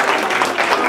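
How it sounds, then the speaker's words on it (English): A room full of audience members claps together in a steady, dense burst of applause at a comedy stress-relief talk, brief and fairly close. "Okay, give a nice round of applause again."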